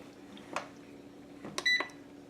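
An Instant Pot pressure cooker gives short electronic beeps as its rice button is pressed, faint and close, with a couple of soft handling clicks and no talk.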